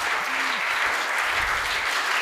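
Audience at a Hindi comedy poetry gathering clapping, a continuous, fairly loud wash of applause with a brief murmur of voices underneath.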